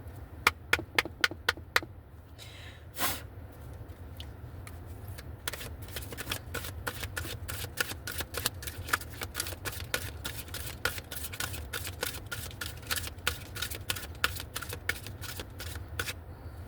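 Oracle cards are shuffled by hand in quick bursts of crisp riffling and slapping, a rapid run of sharp ticks followed by a longer steady stretch of flicking, close and fairly quiet with no talk.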